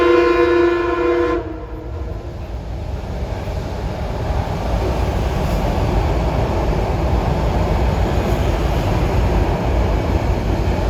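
M3A commuter train passing at Harlem, a loud horn blast at first, then a steady roaring rumble of wheels and cars rolling by close up for the rest of the stretch.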